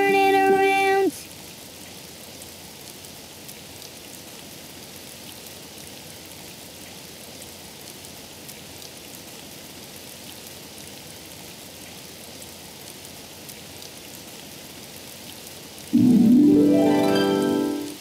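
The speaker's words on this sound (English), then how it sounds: "Oh, it's raining outside." Steady, even rain falls outside, a soft continuous hiss that persists for several seconds, framed by brief bursts of musical tones at the start and end.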